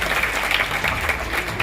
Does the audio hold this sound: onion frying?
no